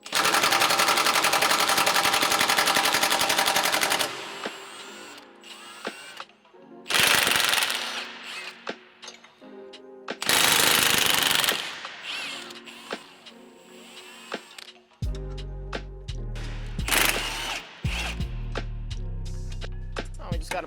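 Loud bursts of an impact wrench or ratchet loosening 17 mm nuts on the rear lateral control arm of a 2022 Subaru BRZ/Toyota GR86, a few sharp rattling runs separated by pauses, with low mechanical tones near the end.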